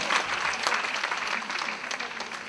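Audience applause at a rally of a Korean private daycare center association in Yongsan: dense, sustained clapping from a large crowd, fairly loud and even throughout.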